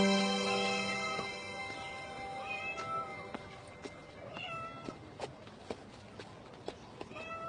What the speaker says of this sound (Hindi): बिल्ली की आवाज आ रही है?